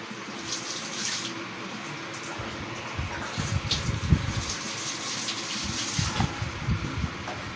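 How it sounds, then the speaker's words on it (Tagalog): Water is poured into a cooking pot: a steady, close gush and splash runs throughout, growing a bit louder and more turbulent midway, with no talk over it. "Lagyan na lang natin ng konting tubig."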